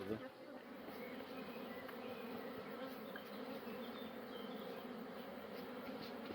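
Many Carniolan honeybees buzz at a hive in a steady, droning hum, fairly close, with individual insects briefly passing nearer now and then.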